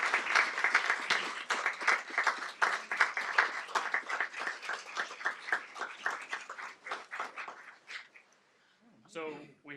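An audience at a school board meeting gives a dense, sustained round of applause for a retiring trustee. The clapping is steady and fades out near the end, and then a voice briefly speaks.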